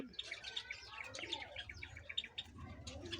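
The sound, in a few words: Java sparrow colony chirping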